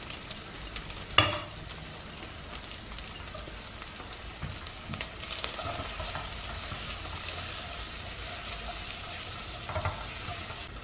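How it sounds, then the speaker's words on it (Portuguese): Onion and garlic fry in a pan with calabresa sausage and bacon for a home-cooked Sunday lunch, giving a steady close sizzle with a few sharp stirring knocks and no voices. "A calabresa e o bacon deu uma leve fritada, agora eu vou colocar, ó, a cebola e o alho."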